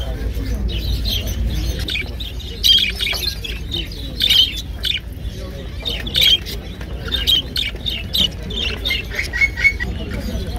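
Parrots and other caged birds at an outdoor bird fair chirp and squawk in repeated bright bursts throughout, moderately close, amid a steady crowd murmur and background talk.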